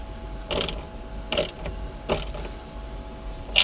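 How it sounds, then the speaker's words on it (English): A spanner works on a loose electrical connection nut inside a van, giving four short ratcheting clicks spaced about a second apart, close and fairly loud with no talking. "So you can get your spanner on, and then see there's a little bit of movement on that one."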